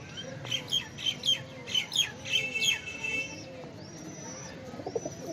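A pet pigeon named Teddy coos close by in soft, rising-and-falling rolls, mixed with sharper chirps from other birds in the background, fairly quiet and without speech.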